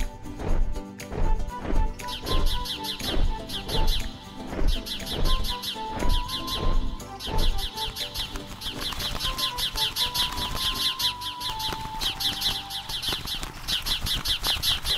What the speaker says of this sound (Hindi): चूचू उड़कर आसमान में गई और चीची करने लगी।